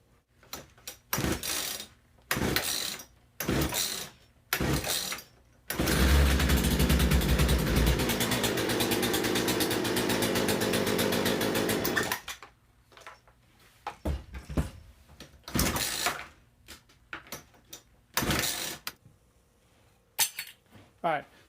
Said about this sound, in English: I was able to get that one on and get the saw running, but it ran like crap